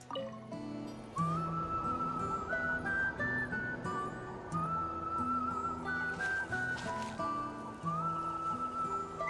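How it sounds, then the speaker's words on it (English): A loud, sustained whistle rings out from a bridge in a video game, wavering in pitch over a layered musical background for about nine seconds. "Loud whistle. Huh? What's that sound? Seems like it's coming from that bridge."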